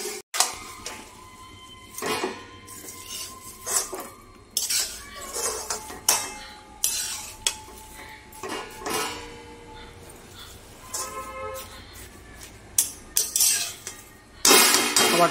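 A utensil stirs food in a pot during home cooking, the pot first opened after steaming; repeated metallic scrapes and clinks sound close and fairly loud, arriving in irregular bursts with no talking.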